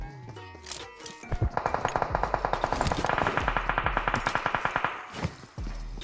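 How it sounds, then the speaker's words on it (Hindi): Rapid automatic gunfire erupts in a battle royale video game, a loud, fast stream of shots lasting several seconds in a solo-versus-squad match. "पीछे ही फायरिंग चल रही है, तुम लोग भी सुन सकते हो"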